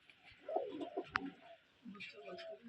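Pet pigeons cooing indoors in a small loft, soft low calls recurring through the moment with a brief sharper chirp, moderately close but quiet.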